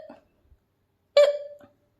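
A single sharp hiccup, likely voiced by a storyteller imitating a rabbit's hiccups: one loud, close, squeaky gulp standing alone in near silence.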